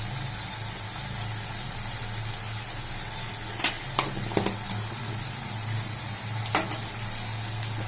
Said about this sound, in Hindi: अच्छे से हम चला लेते हैं, मिक्स कर लेते हैं अच्छे से